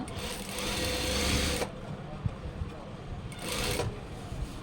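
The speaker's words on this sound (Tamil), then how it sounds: "இப்போ வந்து சைடு ஓப்பன் தைக்க போகிறோம்." Sewing machine stitching the side opening of a chudithar top, two loud bursts of rapid whirring needle action separated by a quieter pause with small handling knocks.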